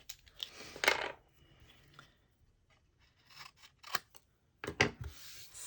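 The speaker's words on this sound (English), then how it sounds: "I'm going to have to just trim my corner here to be able to stamp that properly" Scissors snip the corner off a handmade joy fold greeting card, a few short crisp cuts in quick bursts close by, with quiet rustling of card stock between them.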